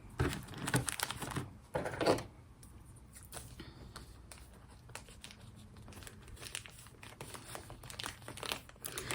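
Plastic container packaging being opened up close, with bursts of crinkling and crackling loudest in the first two seconds, then softer intermittent rustling and handling noises continuing to the end.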